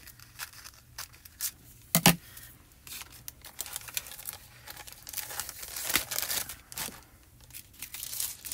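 Hot-foiling foil pulled from a wide roll and cut for a Go Press, a run of crisp crinkles, rustles and sharp snips and tears, close and fairly quiet, with irregular bursts and no speech.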